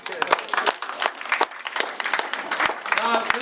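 An audience applauds a speaker at a Chamber of Commerce event, a brief burst of clapping in a hall.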